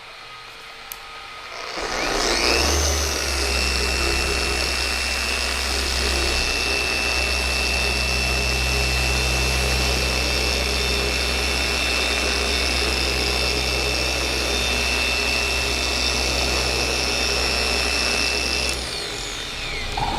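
A ShineMate ERO 600 dual action polisher starts up and runs steadily at close range, giving a loud, constant motor whir with a low hum. It runs for most of the clip before winding down at the end.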